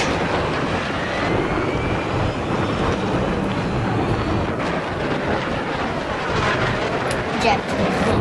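A jet aircraft engine in the Roblox game Jet Wars roars steadily and loudly throughout, a dense continuous rush with no break, while people talk over it.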